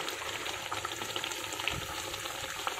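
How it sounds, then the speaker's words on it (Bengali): Steady soft sizzling of puti fish curry frying in a pan as coriander leaves are stirred in, a faint continuous hiss with light scraping, no voices. "আমি ধনে পাতাটা মিলিয়ে দিচ্ছি"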